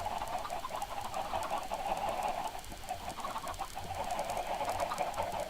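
Chickens in the Minecraft video game cluck continuously in a steady, busy chorus, with no talking over them.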